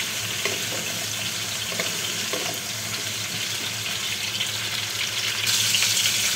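Vegetables including carrot sizzle in oil with salt and turmeric in a kadai, a steady close frying hiss with faint stirring that grows louder near the end, and no talking.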